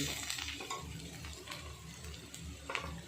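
Garlic and onions are stirred in a pan, with soft scraping and light clinks of a utensil against the pan coming in quick irregular strokes, close up and quiet with no talking.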